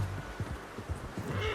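A horse in the video game Red Dead Redemption 2 clip-clops at a walk, a few soft, evenly spaced hoof thuds close by.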